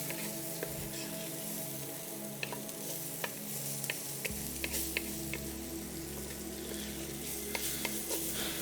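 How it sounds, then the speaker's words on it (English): Garlic sautés in a pan for spaghetti marinara, a steady close sizzle with scattered faint ticks and clicks throughout. "we're only gonna saute our garlic a little bit"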